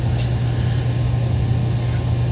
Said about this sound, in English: sorry for the heater noise. It's cold, so the heater's kicking on.